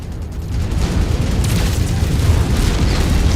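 A heavy mech's fire starter weapon in MechWarrior 5 sets off a dense, continuous rumble of booming explosions, loud and close after a brief quieter start.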